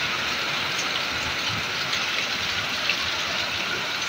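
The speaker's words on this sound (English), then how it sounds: "The rain is falling." Heavy rain falls steadily as a dense, even hiss of drops, close and constant throughout, with no talking.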